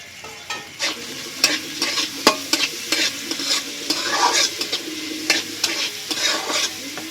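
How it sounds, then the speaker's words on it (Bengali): Onion and green chili fry in hot oil in a wok under a continuous sizzle, while a spatula scrapes and stirs in frequent, irregular strokes close to the listener. "তো একটু পেঁয়াজটা লাল লাল করে ভাজবো"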